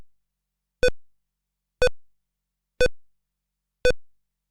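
Four evenly spaced electronic beeps from the Star Fleet II Krellan Commander computer game, each short, clear and tonal with a quick decay, about one second apart and separated by silence.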